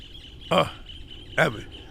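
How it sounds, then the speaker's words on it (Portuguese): A small bird outdoors gives two short, bright chirps about a second apart, clear against a quiet background. "Olha o passarinho cantando, que coisa bonita."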